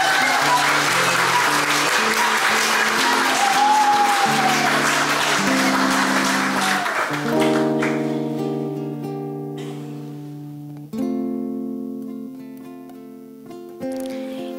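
In a council chamber session, applause for an honoree starts full and steady, then thins out as sustained instrumental music tones enter and carry on alone after the clapping dies away.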